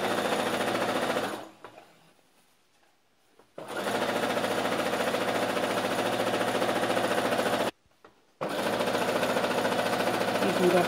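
Sewing machine runs a straight seam on a belted salwar, a steady loud mechanical whir in two long bursts separated by brief pauses.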